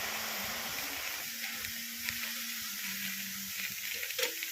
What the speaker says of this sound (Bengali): কচু শাকগুলো আমি কড়াইতে দিয়ে ভাপিয়ে নেব।